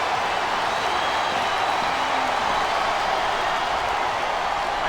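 A wrestling arena crowd roars in WWE SmackDown vs Raw 2007 on PS2 during a Buried Alive match between Chris Benoit and Kane, a loud, dense and steady wash of cheering that holds without break.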